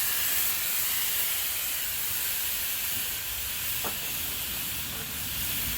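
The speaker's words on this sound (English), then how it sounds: "all I'm looking to do is put a sear on the outside of the meat" Pork searing in a cast iron Dutch oven on a camp stove gives a steady, dense hiss and sizzle held at an even level throughout, with a faint brief tick partway through.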